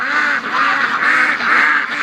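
Ducks being raised for charity quack loudly and close by on a freezing cold night, a rapid overlapping run of nasal calls with no talking.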